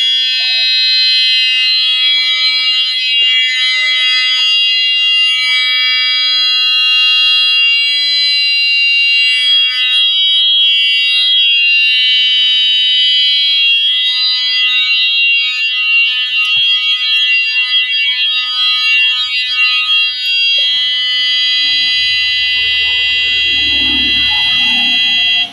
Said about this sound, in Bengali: এটি কিন্তু বিকট আওয়াজে অ্যালার্ম বাজা শুরু হয়েছে